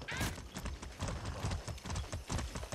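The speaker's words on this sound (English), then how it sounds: "That's a good horse." Horse hooves clip-clop in the video game Far Cry 6, a steady, close and fairly loud run of hoofbeats that lasts throughout, with faint talk in the background.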